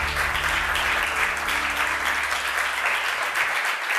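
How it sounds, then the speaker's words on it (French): Loud, dense applause from an audience honoring award recipients at a corporate ethics prize ceremony, steady many-handed clapping that continues throughout with a low background hum fading near the end. "que vous pouvez applaudir."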